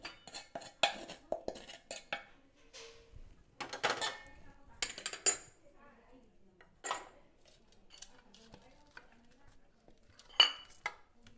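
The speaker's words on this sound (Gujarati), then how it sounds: "એમાં આપણે સહેજ તેલ લગાવી દઈશું. અને આપણે આ ઢોકળી છે એમાં કાઢી લેશું." Metal utensils clinking and scraping on a plate as cooked dhokli dough is scooped onto an oiled dish, sharp intermittent clanks separated by quiet pauses.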